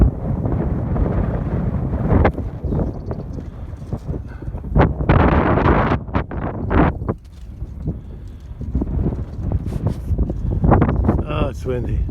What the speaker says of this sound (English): Well, it's kind of windy here today.